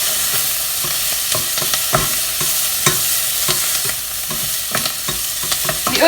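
Sliced onions for French onion soup fry in a pan and are stirred, with a steady sizzle and repeated scraping strokes of the utensil, close and continuous with no talking.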